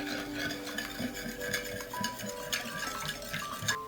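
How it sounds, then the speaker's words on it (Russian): Egg being stirred into baursak dough in a bowl, a steady run of soft scraping and knocking strokes from a spoon against the bowl, close by and fairly quiet, with no talking. "Сюда же добавляем одно яйцо и желток, и белок вместе – Смешиваем."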